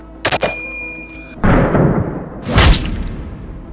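Barnes 70-grain TSX solid copper rifle round fired, with two loud sharp shots about two seconds apart, each followed by a rumbling, decaying tail.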